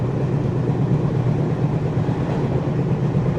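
A Kolkata to Dhaka passenger train runs on the rails at around 86 km/h, a dense continuous rumble and roar heard from inside the carriage, steady throughout with no voices.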